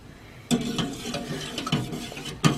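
A spoon works through a thin vanilla pudding mixture that refuses to thicken, giving soft scraping and sloshing with a few sharper knocks against the bowl, close and steady.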